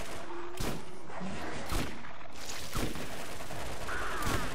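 Borderlands video game gunfire cracks out in several separate sharp shots spaced about a second apart, loud and close, with game effects ringing in the background.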